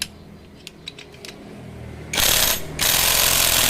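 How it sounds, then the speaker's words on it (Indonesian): An impact wrench tightening a bolt on a Mega Pro motorcycle, a few faint clicks and taps, then two loud, harsh hammering bursts with a brief gap between them. "Kita kencangkan pakai impact"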